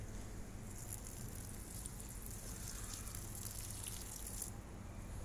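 Water poured onto a potted avocado plant, a soft trickling and pattering stream, faint and steady throughout.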